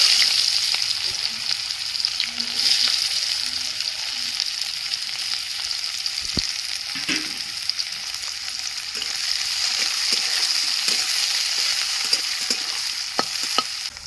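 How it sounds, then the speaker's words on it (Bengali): Chopped onions fry in fish oil in a pan, a steady close sizzle with the occasional scrape of a spoon stirring them, heard alone and without pause. "মাছের তেলেই আমি পেঁয়াজ কুচি দিয়ে দিচ্ছি"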